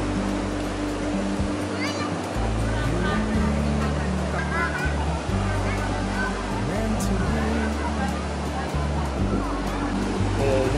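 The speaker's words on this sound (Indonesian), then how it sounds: "Tuh ombak lagi gede banget, bre." Big ocean waves roll in at Ngobaran beach, a continuous loud roar of surf and churning water close by, with voices faintly beneath the rush.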